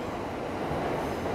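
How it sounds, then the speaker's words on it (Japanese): Train pulling into the underground Sobu Line platform at Tokyo Station, a steady, loud rumble of wheels and cars filling the space without a break, with no voices over it. "またすぐ次の電車が入ってきました"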